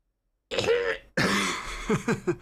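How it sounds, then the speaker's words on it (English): Coughing and throat clearing, two loud, rasping bursts close to the microphone with a short gap between, followed by a few smaller guttural clears at the end. "That actually helped clear my throat, ironically."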